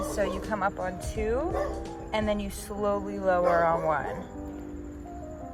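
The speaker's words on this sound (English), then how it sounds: "Sorry for that dog barking." A dog barks and yips repeatedly nearby while a person speaks instructions over it during an at-home calf exercise session.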